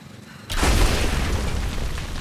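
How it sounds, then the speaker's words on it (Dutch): In the video game Rise of the Tomb Raider, a heavy boom bursts in suddenly and rumbles on, a deep sustained roar from a single large drone explosion. "dat is een grote explosie voor een kleine drone"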